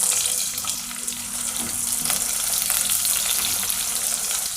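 Large-cut onion pieces sizzle steadily in hot oil in a pan, a continuous close frying hiss with faint stirring scrapes and no talk, while preparing masala khichdi.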